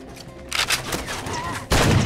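Heavy bursts of Far Cry 2 gunfire ring out, a dense volley around the middle and another loud burst near the end, with sustained crackling decay between shots and no talk.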